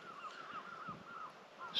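Seagull calls, a series of wavering cries, sound at a moderate distance against a quiet night-time outdoor background on the Pembrokeshire coast, Wales, with a brief sharper call at the end.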